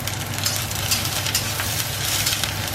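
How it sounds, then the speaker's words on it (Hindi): Chopped onion and capsicum fry in a pan with a steady, loud, hissing sizzle that runs unbroken throughout, with no voices. "अभी इसमें चॉप्ड अनियन, और इसको देके भी थोड़ा सा फ्राई करना है।"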